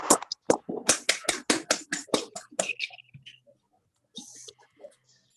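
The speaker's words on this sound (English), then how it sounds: "let us give a round of applause for her long hours and committed efforts" Audience applause at a women's entrepreneurship launch event, a burst of clapping that swells for about three seconds and then dies away, followed by a few faint scattered sounds.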